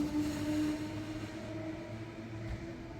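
A new-model train waits at a station on the Sydney to Newcastle line, its low steady engine hum and droning tone sounding fairly quiet and constant for a few seconds.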